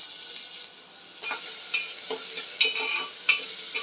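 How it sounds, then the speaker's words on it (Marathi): Finely chopped onion frying in hot oil, a soft sizzle that grows as a spatula stirs in several distinct scraping strokes, close and without speech. "आता आपण यामध्ये ॲड करूया एक मोठा कांदा बारीक चिरून घेतला आहे"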